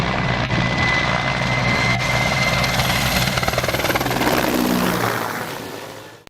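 An Mi-17 helicopter rotor thunders close by, a loud continuous roaring thrum with a whining engine tone over it, holding steady before fading near the end.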